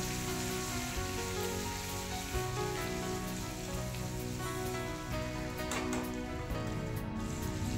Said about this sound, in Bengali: দেখুন এই দুটো আমি দিয়ে দিলাম তেলে, দিয়ে অল্প হলুদ দিয়ে ভালো করে ভেজে নেব।